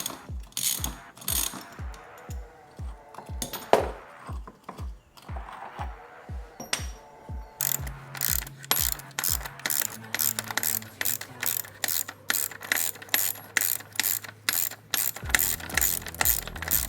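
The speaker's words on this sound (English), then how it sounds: "I've already popped mine loose, so I should be able to just unscrew these." A hand ratchet unscrews body bolts on a Jeep during a rock slider install, heard as crisp, close rapid clicking in repeated bursts with a steady rhythm, no talking.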